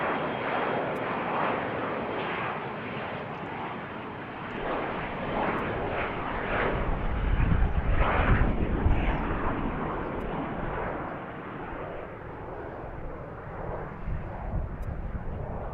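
A Challenger jet at BWI airport roars past, its broad rushing engine noise heard from a distance, building to a peak midway and then slowly fading while still filling the background.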